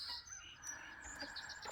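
Birds chirping outdoors, a steady mix of high tweets and calls close by, with a faint fowl-like cluck in the background and no talking.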